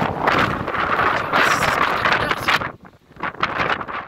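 Strong gusting wind roars and buffets against the microphone at a high vantage point above the Durance valley, loud and continuous before dropping briefly near the end and picking up again.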